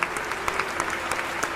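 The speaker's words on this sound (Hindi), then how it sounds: "ये जितने लोग बैठे हैं इन सबने ताली बजाई इस बात पर।" An audience seated at a Hindi spiritual talk on Lord Ram applauds, a dense patter of many hands clapping close and steady throughout, with no talk over it.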